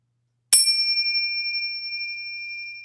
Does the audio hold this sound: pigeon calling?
no